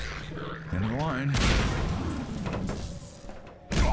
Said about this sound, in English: I can hear screaming, of course, explosions.